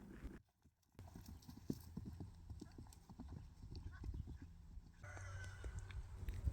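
A horse lopes on its left lead under a rider, hoofbeats thudding in a steady rhythm at moderate distance, with occasional animal sounds and outdoor background noise.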